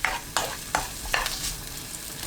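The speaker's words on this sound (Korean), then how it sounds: "팬이 달궈지면 식용유 1큰술, 마늘 넣고 센 불로 10초 볶아주세요." Sliced garlic stir-fried in a spoonful of cooking oil over high heat, crisp spatula scrapes striking every few tenths of a second over a constant hiss of sizzling oil.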